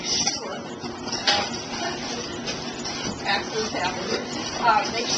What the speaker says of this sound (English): I'm actually going to whisk this together